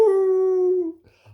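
A human voice imitates a howling dog, one sustained near howl sliding slightly downward for about a second before trailing off into faint noise.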